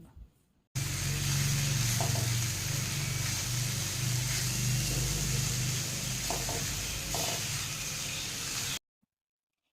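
Carrot and beetroot pieces fry with a spice paste as they are stirred, giving a steady, even hiss of sizzling for several seconds before cutting out.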